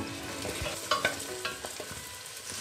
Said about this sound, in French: une fois l'huile chaude, vous ajoutez les oignons gros lots dedans, puis on va les faire revenir quelques minutes jusqu'à qu'ils aient une belle couleur